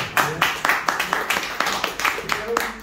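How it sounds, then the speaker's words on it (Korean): A small group of golf instructor trainees claps in rhythmic bursts at the start of a coaching course session, the claps evenly spaced and close by, with some background chatter. "박수 주세요."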